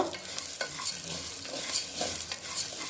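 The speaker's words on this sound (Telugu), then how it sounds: "వేగుతూ ఉంది కొంచెంసేపు వేగనిద్దాం" Split moong dal fries in a pan with a steady, close sizzle and soft hiss throughout, broken by light scraping strokes as it is stirred; no voices.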